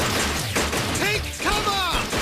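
Explosives go off in an animated-series ambush as a loud, continuous blast and crash din, threaded with whining, sweeping effect tones and shouting voices throughout.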